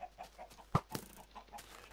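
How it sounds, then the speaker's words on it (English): Several short Minecraft chicken clucks in quick succession, one sharper squawk standing out, with a faint busy background. "Oh, so many chickens."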